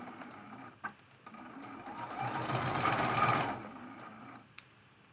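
Close sewing machine stitching a Christmas stocking made from fat quarters, a quiet rapid chatter that rises for about a second and a half, with soft clicks before and after.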